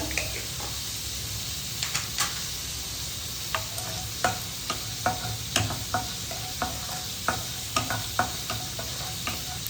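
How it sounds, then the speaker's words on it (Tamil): Mustard seeds and urad dal sizzle and pop in hot oil for a Tamil fish curry, a steady frying hiss broken by repeated sharp crackles, with stirring sounds close by. "சைடில் கீரையும் பொறிச்சிடலாம் கடுகு உளுந்தம்பருப்பு போட்டுக்கோங்க"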